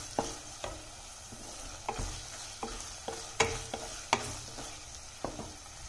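Green chillies sautéing in a pan for mealmaker biryani, with a faint sizzle under repeated clicking spoon strokes against the metal at irregular intervals, close and fairly quiet, no one speaking.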